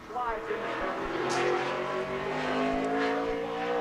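A NASCAR Busch Series race car engine screams at high, steady revs during qualifying for the 2007 Toyota/Save Mart 350, holding a sustained whine with slight wavering on the limiter, while a commentator talks over it.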